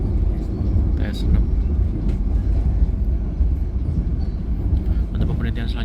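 A CRRC TS6 electric commuter train passes on the Cikarang–Bekasi line, heard from aboard a moving Dharmawangsa executive intercity train (Surabaya–Jakarta) as a steady loud low rumble and wheel roar, with someone talking over it.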